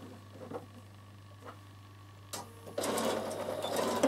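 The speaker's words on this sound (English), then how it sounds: "now I'm going to sew my other pocket on, my other side of my pocket, and overlock the same" Bernina sewing machine stitching a dress pocket. A few soft clicks and handling noises come first, then the machine starts up and runs with a steady close mechanical whir.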